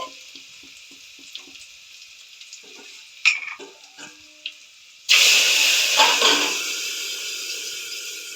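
Garlic drops into hot oil already tempered with cumin and mustard seeds for a raw mango curry, bursting into a loud, steady sizzle after a few quiet kitchen clinks.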